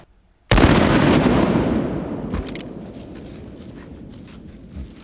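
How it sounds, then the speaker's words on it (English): A .44 Magnum firing a 240 grain hollow point round at a ballistic helmet outdoors: one sharp, very loud close gunshot that cuts in abruptly, then a long rolling echo that fades over several seconds. "we have finally arrived at the 44 Magnum. This is a 240 grain hollow point"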